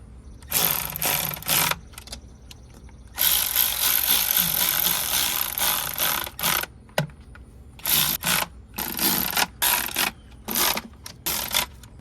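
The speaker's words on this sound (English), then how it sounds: "then I'm gonna go with the freaking gear wrench" A gear wrench ratchets on a bolt while working on a 6.0 Powerstroke injector, giving loud, close bursts of fast clicking separated by short pauses, with a few single clicks between them.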